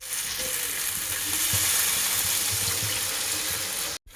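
Water poured into frying ginger-cumin masala for a thin silver carp curry gives a loud, continuous hissing sizzle with faint stirring beneath, cutting off abruptly at the end.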